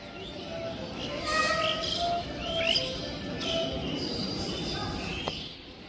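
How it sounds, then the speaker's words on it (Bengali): Myna birds perched in pairs on a rooftop after heavy rain give repeated chirps and short calls, moderately close, over steady outdoor ambience with a few louder bursts of calling. "এই ছাদটায় দেখো কত পাখি, শালিক সব জোড়ায় জোড়ায় বসে থাকে।"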